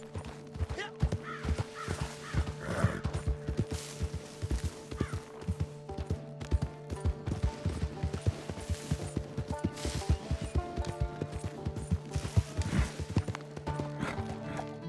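Horse hooves clip-clopping in Red Dead Redemption 2, a steady close rhythm of hoofbeats running throughout, with a neigh and faint bird calls in the background.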